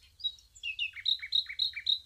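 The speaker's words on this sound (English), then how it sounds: "The nightingale came all the way from South Africa to build a nest here." Nightingale singing: a short run of clear, repeated high chirping notes, fairly close and distinct against a quiet background with faint low rumble.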